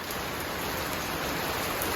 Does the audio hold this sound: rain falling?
yes